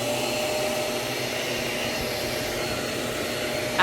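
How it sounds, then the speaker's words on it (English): A refurbished Shark UV540 Lift-Away upright vacuum cleaner runs with a loud, steady whooshing motor roar that holds constant throughout, with no speech over it. "Like, this vacuum did its thing, and it still turned on."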